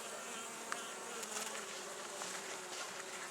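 Bees buzz inside a top bar hive, a dense, steady, close-up hum with no break and no voices.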